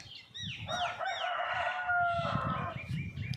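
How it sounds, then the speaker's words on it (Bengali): A rooster crows on a sunny morning near a temple, several drawn-out cock-a-doodle-doo calls overlapping at moderate distance, with faint clucking and soft background rumble. "একদম চকচক করছে মোরগ ডাকছে"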